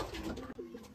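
Pigeons at a bird market coo softly in a short, close burst of low warbling calls, with faint background noise.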